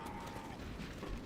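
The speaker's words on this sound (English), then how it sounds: "Reloading." Weapon being reloaded in a video game, a brief, faint burst of metallic ratcheting and clicking mechanism sounds.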